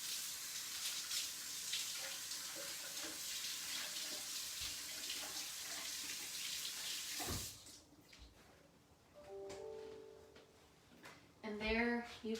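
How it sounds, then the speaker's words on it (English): Kitchen tap water running steadily as hands are washed, a close continuous hiss for several seconds before the flow stops, followed by a few faint clinks and a brief voice. "I'm gonna wash my hand."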